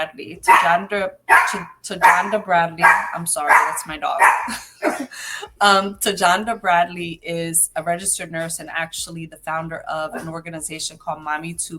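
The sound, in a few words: dog barking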